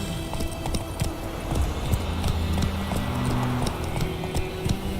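Roach, a horse in the video game Witcher 3, galloping at a steady pace, with rhythmic hoofbeats close and loud over a low rumbling background, no talk.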